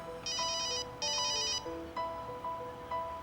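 A cell phone rings in repeated electronic bursts, four or five short chiming pulses with brief gaps, moderately loud and alone, no voices over it.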